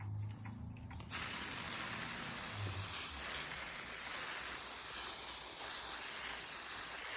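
A steady, continuous hiss of a spray bottle misting water over an isopod enclosure begins after a short pause and runs on without a break, close and moderately loud.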